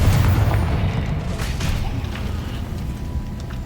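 Spell blasts from Hogwarts Legacy on PS5, the Confringo and Capulso curses, hit as heavy booming rumbles with whooshing impacts, dense and loud throughout.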